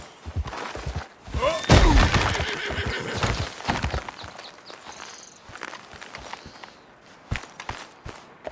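A horse in a video game whinnies loudly and close, followed by scattered hoof clops and thuds as it moves about.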